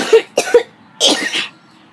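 Someone with asthma coughs close and loud: two short coughs, a brief pause, then a longer harsher cough with a throaty rasp, no talking.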